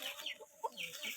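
Indonesian native kampung chickens on a traditional small farm, clucking in short, soft, repeated calls at moderate distance, with a faint ambient background.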